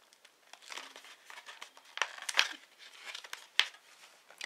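Plastic packaging from a Primark purchase is crinkled and torn open at close range, with scattered sharp crackles and rustling, fairly quiet overall.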